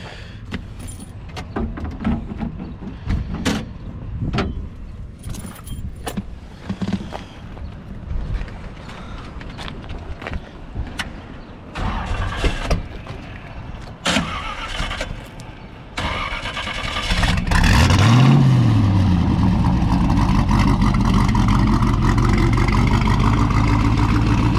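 A 1929 Ford Roadster is handled with rattles, clanks and jingling keys before its engine cranks and catches, then settles into a loud, steady idle with a rev at the start, close by and with no talking.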